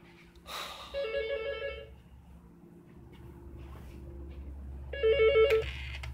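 A telephone rings twice, each burst a short electronic trill, separated by a few seconds of low background hum with a faint rustle in between.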